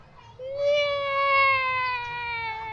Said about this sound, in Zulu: Hey, ikati.